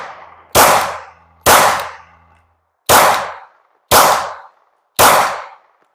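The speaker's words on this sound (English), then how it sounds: "So let's go ahead and throw some rounds down range." Five loud, sharp gunshots from a Glock 19 with a Leo Precision Oden in Cobalt Blue, built on a Strike Industry 80% frame with a custom trigger, fired at a range, spaced about a second apart and each trailing off with echo.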